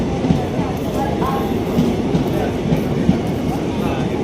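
A train passing near a station stop on an Indian rail line, a steady low rumble of wheels and carriages running throughout with faint clatter, close and continuous.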